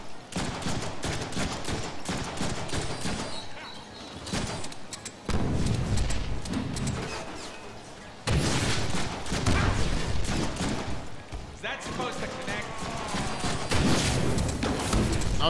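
Rapid bursts of gunfire from the Deadpool video game ring out almost nonstop, dense and loud, with heavy booms and thuds mixed in and brief lulls near the five- and eight-second marks.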